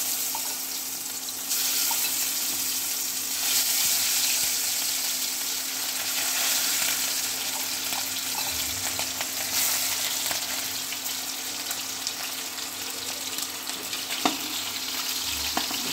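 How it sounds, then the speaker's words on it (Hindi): Steady oil sizzle of fish frying in a pan, a dense crackling hiss throughout with occasional pops and light clinks, close and continuous, no talking. "उसके बाद अब इसको फ्राई करेंगे।"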